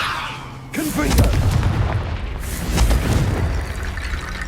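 The Confringo fire spell from the Hogwarts Legacy video game erupts in a loud, booming blast followed by a rumbling, crackling tail, then a second heavy burst, close and forceful.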